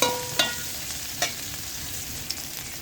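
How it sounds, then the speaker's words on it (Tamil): A green chilli sautés in a pan for pirandai chutney, with a soft, steady sizzle broken by a few sharp spatula scrapes against the pan, close and fairly quiet. "ஒரு பச்சை மிளகாய் போட்டுக்கலாம். இது நல்லா வதங்கணும்."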